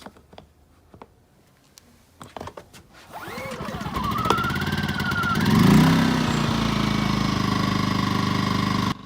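A portable generator engine, propane or gasoline, set on choke, starts up with a few pulls, then runs at a loud, steady close-range hum that rises and settles into a constant drone.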